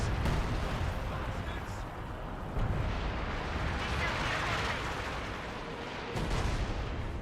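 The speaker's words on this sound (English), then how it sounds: "Katyusha Barrage does annihilate the MG for his teammate" A Katyusha rocket artillery barrage in Company of Heroes 2 sounds as rolling booms and rumbling explosions that overlap into a continuous roar, with a voice talking over the battle noise.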